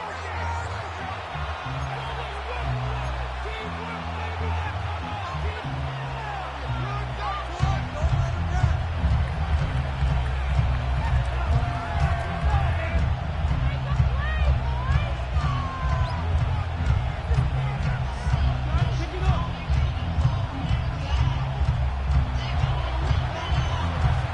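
Stadium crowd noise in an EA Sports NFL football video game at Highmark Stadium in Orchard Park, New York, a steady loud roar that swells after a few seconds and holds, with a commentator's voice over it.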